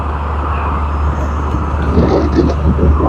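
An Amigo car cruising at 40 miles an hour in fifth gear, with a steady low engine and road rumble that swells slightly near the end, heard from inside the cabin.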